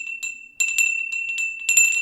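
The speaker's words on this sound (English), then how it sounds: "Do we have a bell?" Small hand bell rung indoors, a series of bright metallic rings with uneven rhythm, loud and close, the last strokes quickest and densest, no talking.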